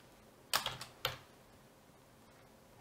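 A computer keyboard is typed on in a short burst of several quick clicking keystrokes, followed by one more distinct tap, close and clear against a quiet background.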